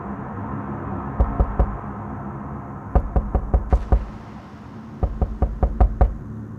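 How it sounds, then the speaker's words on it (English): Several clusters of dull knocks thud against an attic hatch in short bursts, loud and close against a quiet room. "I hear 3 dull knocks hammer the attic hatch right above me"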